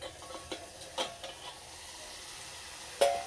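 Egg curry in a pan is stirred after the lid comes off, with a soft sizzle, a few scraping clicks of the spoon and a louder clank near the end.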